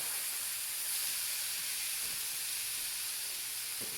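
Steady, even hiss of steak sizzling on a hot grill, continuous and fairly loud, with no talking.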